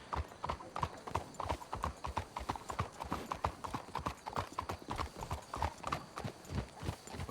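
Horses walking in Red Dead Redemption 2, a steady clip-clop of hooves on hard ground in an even, repeating rhythm, close and clear, with quiet background ambience.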